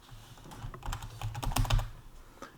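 Close, soft clicks of typing on a computer keyboard, a brief flurry of keystrokes that grows busier in the middle and then thins out.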